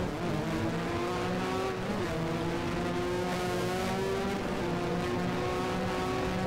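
A 1983 Formula 1 car in a racing video game at the 2002 Sepang International Circuit: a steady, loud, high-revving engine whine with a continuous squeal of sliding tires, running without a break.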